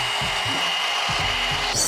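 A budget Dollar Tree hot styling tool running on its medium heat setting gives a steady, close airy whir with a faint low buzz pulsing underneath, ending in a brief brighter hiss.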